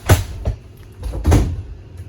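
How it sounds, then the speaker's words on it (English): Door of a 2022 Forest River Wildwood 28 VBXL travel trailer closing: a couple of quick knocks, then a heavier thud and latch close by, with no talk over it. "I am just going to close the door for a second, trying to help with the shop noise"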